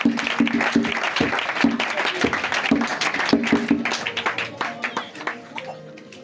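A church congregation claps and applauds, sharp hand claps ringing out over crowd noise and voices, the clapping thinning into scattered individual claps toward the end.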